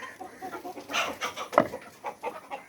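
Chickens cluck in a hot poultry shed during a heatwave, giving a busy stream of overlapping soft clucks and one louder squawk, fairly close and moderately loud, with no one talking.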